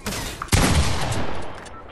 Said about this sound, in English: Shoot me with a pump in my head